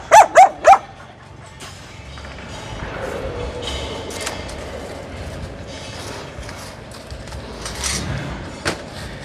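A Phu Quoc dog being held for a vaccination at the vet lets out three sharp, loud barks in quick succession, then goes quiet under faint background noise before one more short bark near the end.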